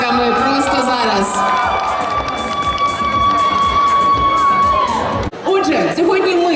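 A mall concert crowd in Kyiv greets singing-show finalists with loud cheering, whoops and shouts, including a long whistle-like tone, with a sudden brief dip before the noise resumes and voices mixed throughout.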